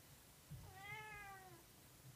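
A single drawn-out cat meow, rising then falling, heard faintly from outside a closed door in a quiet room.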